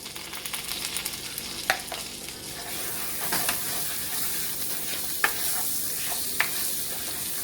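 Rice and chopped onions frying in a pan for country pork chops and rice. A continuous, hissing sizzle grows fuller partway through, with occasional spoon clicks and stirring scrapes and no speech.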